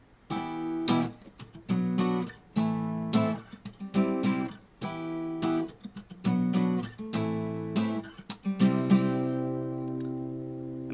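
An acoustic guitar plays the verse strumming pattern, pairs of down strums on each chord broken by sharp muted percussive chucks in a steady rhythm, close and clear, then a final ringing chord.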